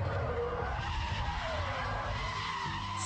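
A car is deliberately thrown into a drift on an open runway-like surface at about 70 mph in third gear, tires skidding and squealing continuously over steady engine noise for the whole stretch, with no talk.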